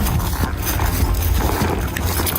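Horse hooves clip-clop in a steady, continuous rhythm, close and fairly loud against a dense background, with no talking.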